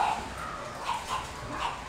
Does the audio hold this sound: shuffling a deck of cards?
no